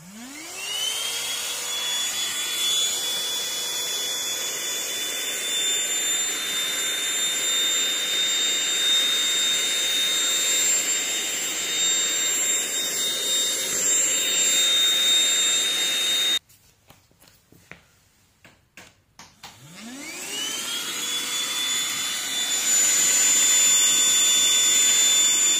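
Baseus A1 cordless vacuum cleaner sucking up potting soil, with and without its nozzle: a loud steady whine that spins up, cuts out briefly with scattered clicks, then restarts and runs on at full power.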